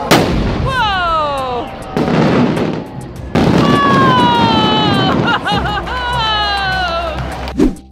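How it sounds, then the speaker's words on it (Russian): Fireworks at the Malta fireworks festival fire in bursts, with sharp bangs and long whistling tones that glide up and down, loud and close, while a crowd murmurs in the background. "Несколько минут в небе происходили не очень большие, но красивые взрывы."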